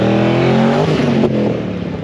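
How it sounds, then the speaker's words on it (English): A Holden VC Commodore tarmac rally car holds a loud, strained engine note at a tarmac rally in Perth. The sustained revving drops in pitch partway through, heard fairly close with no talk. "You can hear the VC Commodore in the background there."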